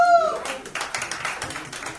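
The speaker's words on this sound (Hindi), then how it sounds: "एक बार जोरदार तालियां हो जाए।" An audience at a music video launch event breaks into applause, a quick burst of scattered hand claps lasting only a couple of seconds after a brief voice at the start.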